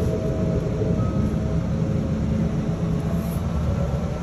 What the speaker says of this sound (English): Look, I'm in a train now.